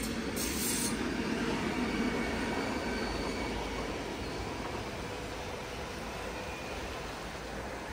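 A train rolls through a Swiss valley on the way toward Zermatt, giving a steady, broadband rumble and rail roar that holds at the same level for the whole stretch, with no voices.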